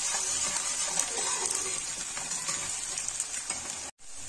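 Coarsely chopped garlic fries in hot oil for a dry potato and spinach dish, making a dense, even sizzle up close that cuts off briefly near the end, with no speech.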